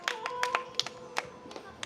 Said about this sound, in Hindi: तालियों से आशीर्वाद दें